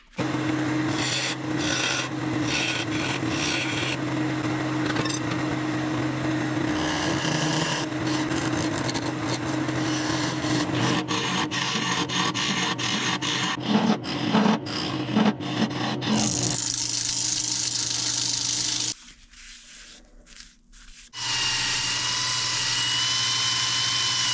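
A lathe turns a tenon on a resin and cedar blank, the tool scraping and rasping loudly and continuously against the spinning piece over a steady motor whine, with a short drop to quieter running near the end.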